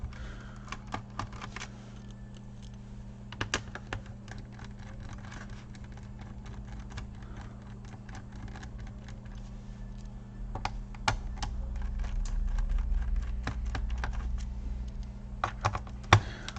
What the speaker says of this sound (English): After that we're gonna remove the rest of the screws.